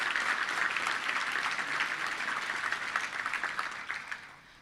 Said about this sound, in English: So let's give them a special round of applause for the hard work that they do each week.